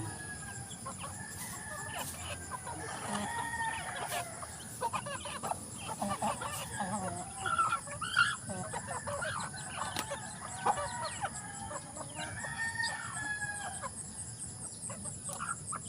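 A flock of chickens clucks steadily while feeding in the morning, with overlapping close clucks and cackles and an occasional crow in the background, continuous throughout.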